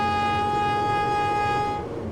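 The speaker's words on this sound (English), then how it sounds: "That's kind of a wimpy air horn if you ask me" A steady, sustained truck air horn blast on a 2026 International MV hooklift truck, bright and buzzy, holds for about two seconds, then cuts off abruptly.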